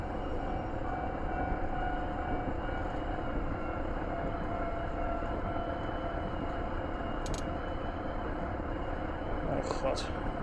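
A KiHa 40 diesel railcar runs with a steady, dense rumble of engine and rail noise throughout, with a couple of brief high squeaks near the end.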